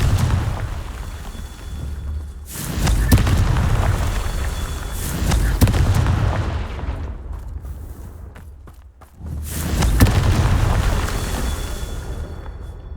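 Confringo spell blasts go off repeatedly in the Hogwarts Legacy video game, booming explosive bursts over a continuous rumbling game soundscape.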